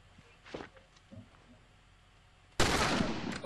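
Gunfire in The Last of Us multiplayer video game: soft scattered shot sounds early on, then a loud sustained burst of shooting near the end, close and dominant.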